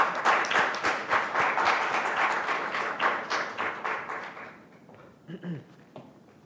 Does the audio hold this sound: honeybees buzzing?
no